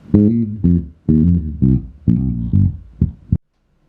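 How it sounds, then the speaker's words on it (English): Bass guitar notes through a Hartke HA2500 amp with the mid-range boosted, punchy and mid-heavy, played in short separate phrases, then silence at the end. "Let me do another sound clip with the mid-range up."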